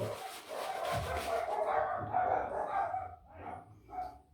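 Dogs bark repeatedly in the distance at night, a run of rough yelps and whines that fade and return over a few seconds.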